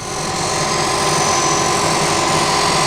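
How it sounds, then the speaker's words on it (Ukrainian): Steady, loud grinding roar of a machine grinding wheel working a cast iron milling machine table, continuous and close with no pauses. "Шліфуємо наш стіл."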